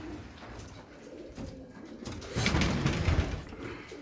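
Pigeons coo softly in a loft, in a low, murmuring chorus, with a louder swell of throaty cooing toward the end over a steady background hum.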